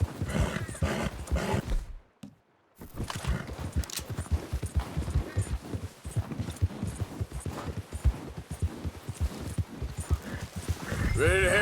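Horse hooves clip-clop at a steady riding pace in Red Dead Redemption 2, close and loud under a rider's spoken remarks, with a brief dropout early on.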